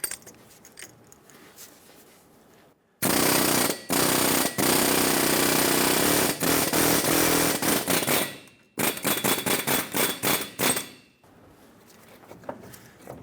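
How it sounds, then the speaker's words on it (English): An air chisel hammers around a rusted, seized wheel bearing on a 2003-2009 Dodge Ram 2500 5.7L V8, loud rapid pneumatic bursts in two long runs with a short pause between, then fading to quiet shop ambience. "I'm going to use an air chisel and go around the base of this wheel bearing."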